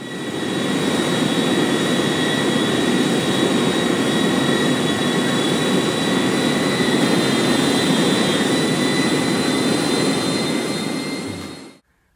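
Airliner jet engines from a video game recreation of Air Canada flight 759 give a loud, constant roar with a steady whine on top, running unbroken for about twelve seconds before cutting off abruptly.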